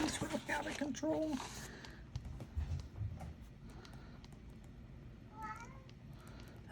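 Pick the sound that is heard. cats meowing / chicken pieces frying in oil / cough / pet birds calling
cats meowing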